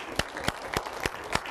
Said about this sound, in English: Give those people a round of applause.